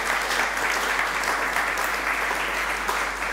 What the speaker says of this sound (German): Sie dürfen zwischendurch durchaus klatschen